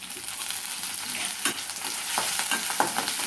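Ginger garlic paste and curry leaves frying in oil in a pan for a mock fish curry, a continuous close sizzle broken by spatula scrapes and stirring strokes.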